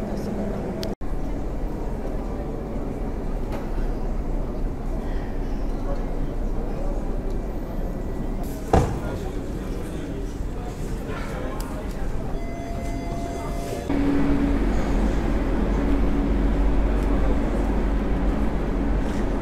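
A Koleje Mazowieckie Słoneczny train at Warszawa Centralna, a continuous low rumble of rolling stock with a few sharp clanks and a brief tonal squeal, getting louder toward the end amid station noise.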